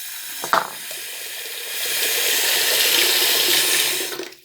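Water splashing and rushing steadily as a homemade boat is tested for floating, with a brief sharp splash near the start followed by a continuous loud wash that fades out at the end.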